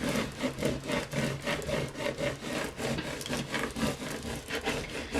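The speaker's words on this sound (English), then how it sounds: "I'm going to grab my scraping tool and I'm just going to scrape it down" Scraping tool rubbed back and forth over adhesive vinyl transfer tape, a steady rhythmic rasping of about twenty close strokes, with no talk.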